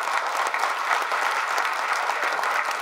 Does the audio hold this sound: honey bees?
no